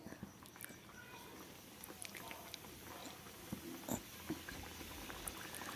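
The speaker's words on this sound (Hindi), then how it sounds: "अब इन कच्चे पिड़कियों को तलेंगे, एक एक करके डालिए।" Gujiya pastries dropped into hot oil to fry, giving a steady low bubbling sizzle with scattered pops and crackles at moderate volume, no talking over it.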